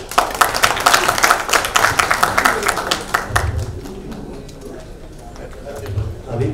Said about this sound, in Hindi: इसके लिए आप लोग एक जोरदार ताली।